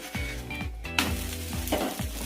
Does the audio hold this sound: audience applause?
no